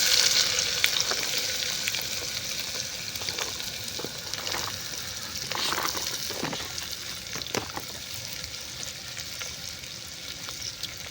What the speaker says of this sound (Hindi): अब इसमें जाएगा प्याज,